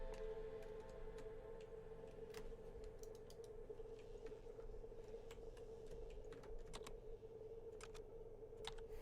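Computer keyboard typing during a Turing Test game, sparse scattered key clicks over a steady background hum, no speech.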